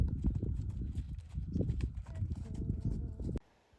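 Horse trotting through a ground-work pole circuit, its hooves making a steady, fairly close clip-clop rhythm for a few seconds before stopping abruptly into near silence.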